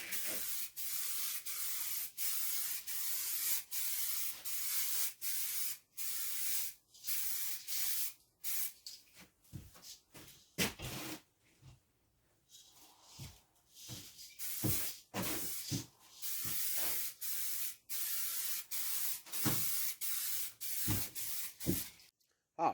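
Coating is sprayed onto a hydro-dipped Polaris XP Turbo hood in repeated bursts, each a loud hiss lasting a second or two and separated by short pauses, with no voices.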